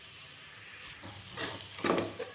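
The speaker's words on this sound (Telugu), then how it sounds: "ఇప్పుడు నానబెట్టిన శనగలు వేసి ఒకసారి కలపాలి." Soaked chana dal stirred into hot oil for mango pulihora, giving a soft, close sizzle with a few quiet scraping swells of stirring.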